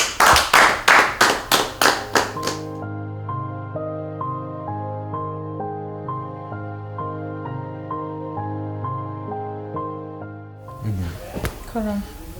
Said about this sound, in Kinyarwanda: Abantu mwamera amashyi uyu muryango wa Sky na Ingrid waje yifatanyije na murumuna wera.